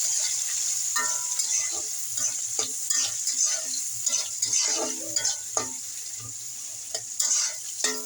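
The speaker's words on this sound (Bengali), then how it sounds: "তেলটা গরম হয়ে যাওয়ার পরে আমি কিন্তু রসুনটা বেটে দিইনি আমি রসুনটা একটু থেতলো করে দিয়েছি" Crushed garlic fries in hot oil with onion, the start of a duck curry. A close, steady sizzle carries scattered clinks and scrapes of stirring.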